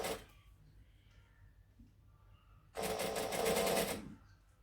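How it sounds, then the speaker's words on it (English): Domestic sewing machine stitching along a folded fabric edge: a short burst of about a second of rapid whirring stitches after quiet handling noises, close and fairly loud. "I'm just folding it in half and stitching it as close to the edge as I can."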